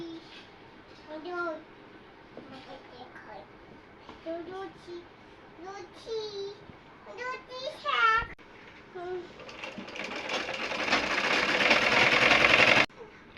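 A household sewing machine stitches a fabric ruffle onto a child's dress made from leftover cloth. Its buzzing whir swells loudly near the end, after a stretch of a voice and quiet room sounds.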